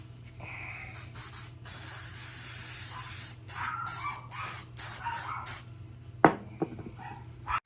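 Color Master clear gloss coat hisses from a spray can in several short bursts of a second or so each, close by, ending with a few mechanical clicks.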